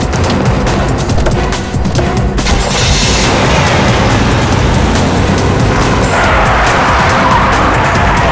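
A car skids loudly with tires squealing on a punctured tire during a getaway in a crime drama, with the roar of the engine running steadily through the whole stretch and a louder, brighter burst of skidding near the end.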